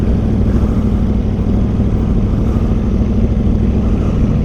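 An Aprilia 1100 Factory motorcycle rides on the freeway with a loud, steady engine drone mixed with rushing wind noise, close and continuous throughout.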